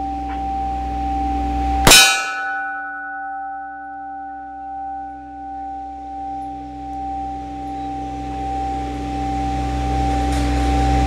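Light-load 9mm cast bullet striking a CO2 tank hung as a windchime: a single sharp gunshot-like clang followed by a long, clear ringing tone that slowly fades under faint outdoor background noise.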